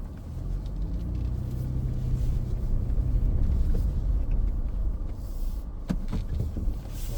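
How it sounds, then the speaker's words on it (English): Off-road tires on a vehicle grinding slowly over loose shale rock on a logging road in northern Maine during mud season, a steady low rumble of engine and crunching stone, close and continuous with a few sharper knocks near the end. "Driving over nothing but shale rock right now."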